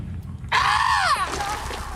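A man in a film lets out a loud, drawn-out triumphant yell like a hunter who has caught prey, rising sharply then bending downward before trailing off, close and prominent over background sound.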